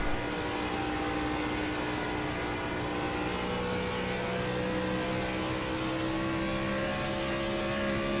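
A Gen 4 Cup stock car lapping Atlanta in a racing video game, a loud continuous engine drone with steady rising and falling harmonic tones, no voices.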